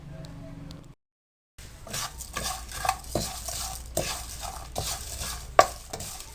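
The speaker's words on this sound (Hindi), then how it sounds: "और अब आपने इनको 1 मिनट के लिए मीडियम फ्लेम पे रोस्ट करना है" A spoon stirs whole spices dry-roasting in a pan over a medium flame for garam masala, making soft scraping strokes and clinks over a light sizzle after a brief gap.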